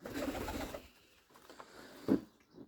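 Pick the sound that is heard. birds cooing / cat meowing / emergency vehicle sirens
birds cooing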